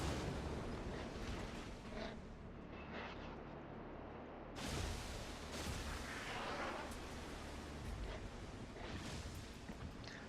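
Cruiser guns of the Karlsruhe fire in World of Warships, distant booming salvos rolling over a constant low roar of sea and engine noise, with a heavier blast partway through.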